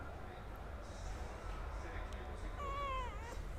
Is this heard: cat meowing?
yes